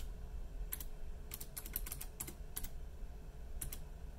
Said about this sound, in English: for the username, you're gonna want to type in administrator